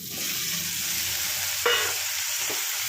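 Small chopped potatoes fry in a pan for a pumpkin and fenugreek curry, with water added and the heat raised. The sizzle is constant and close, with a couple of brief stirring scrapes and no talking.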